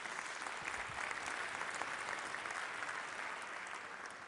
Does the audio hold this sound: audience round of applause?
yes